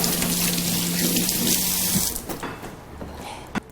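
A sink tap runs steadily while raw shrimp are rinsed, giving a loud close gush and splash that cuts off after about two seconds, followed by a few soft handling knocks.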